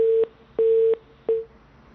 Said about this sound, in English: Unfortunately, we have lost our connection on the phone